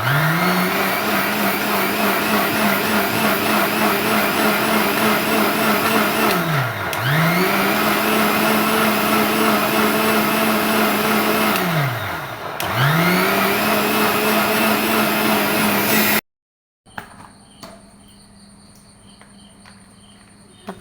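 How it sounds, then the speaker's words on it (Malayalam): A kitchen mixer grinder grinds soaked rice into batter with a loud, steady motor whine that dips briefly twice as it pulses. It then switches off, leaving quiet room sound with faint clicks. "അരിയൊക്കെ എടുത്ത് മിക്സിയിൽ അരച്ചെടുക്കുകയാണ് കേട്ടോ"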